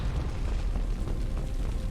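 In the Mass Effect 2 video game, an explosion's aftermath comes through as a steady, dense low rumble and roar that holds at one level without a sharp blast.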